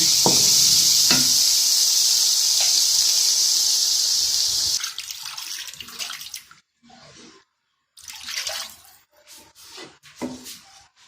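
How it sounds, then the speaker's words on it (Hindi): Water pours steadily into a pan of kebab mixture with cumin during cooking, a loud continuous splashing stream with drips that stops halfway, followed by scattered clinks and quieter kitchen handling sounds. "अब हम इसमें थोड़ा सा पानी ऐड करेंगे और दम में रखेंगे"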